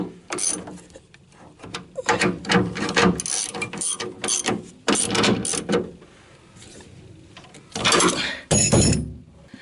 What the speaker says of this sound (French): Je serre les deux clés de 13 que j'ai rajoutées ici.